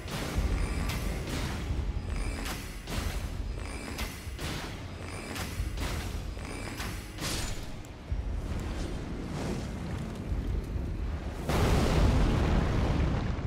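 Explosions in Elden Ring: Shadow of the Erdtree, a run of sharp, loud bursts in quick succession followed by a sustained rumbling blast near the end, with no talk.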